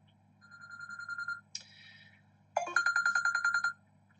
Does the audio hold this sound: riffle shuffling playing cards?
no